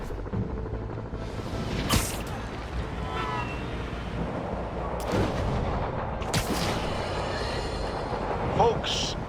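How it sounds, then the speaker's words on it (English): Gunfire on an APC in Marvel's Spider-Man: sharp bursts and booming shots crack out at intervals over a rumbling battle backdrop, with a voice talking through it. "Demons are firing on our APC."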